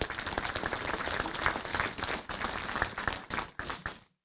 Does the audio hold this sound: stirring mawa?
no